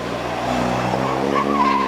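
Vintage Bentley with a 4.5-litre engine and Van der Plas bodywork racing up a hill climb, a steady engine drone with a rising pitch toward the end.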